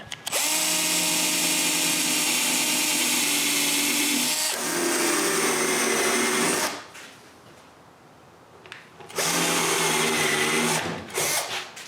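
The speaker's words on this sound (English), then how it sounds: "I mark where the holes should be on the bottom of the top case and drill them" A power drill whines steadily, drilling holes through the wooden bottom of a dresser case in two long bursts, with a short quiet pause between them and a brief start at the end.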